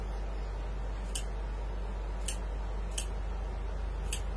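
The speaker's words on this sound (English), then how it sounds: "They sound satisfying, these scissors, don't they?" Scissors snipping through material in a craft studio, four short crisp cuts spaced about a second apart over a quiet low hum.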